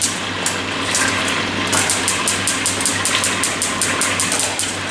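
Frozen chips frying in hot liquid fat, a continuous loud sizzle with repeated sharp spits and crackles popping at a quick, irregular rhythm, growing busier after the first couple of seconds.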